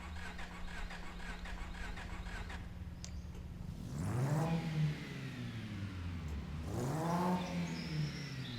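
A truck engine with a newly fitted exhaust turns over and catches, then gives two strong revs that rise and fall a few seconds apart, close and loud over a steady idle, with no talking.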